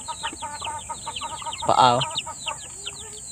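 Breeding roosters and hens in a poultry area, several close clucks and chattering calls with one louder crow-like squawk in the middle, and a person briefly speaking.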